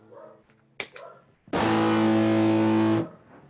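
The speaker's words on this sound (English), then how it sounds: "It's a distortion pedal." Electric guitar played through a TC Electronic Mojo distortion pedal, a few muted plucks then one loud sustained distorted chord ringing for about a second and a half before being cut off.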